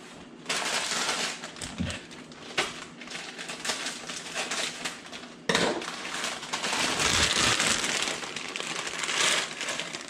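Thai Kitchen pad Thai rice noodles are stirred in a pot of broth, giving a continuous close scraping and clattering hiss with a few sharper knocks and no talking.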